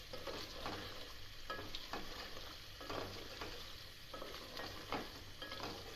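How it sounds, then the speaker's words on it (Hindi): Meat for a Punjabi aloo gosht curry sizzles and fries in a pot while being stirred, with steady broadband frying hiss and periodic scraping stir strokes, close and continuous with no talk. "अब इसको भूनते हैं, फिर इसमें आलू डालते हैं।"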